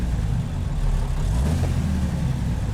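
A heavy-haul Cajun Express Powerliner truck with a KTA 19-litre engine in American Truck Simulator, its deep engine rumbling steadily and loudly, revving slightly, with no talk over it.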